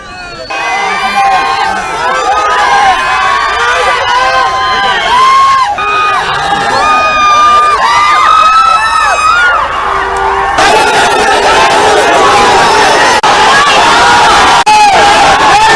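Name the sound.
crowd cheering and chanting slogans at rally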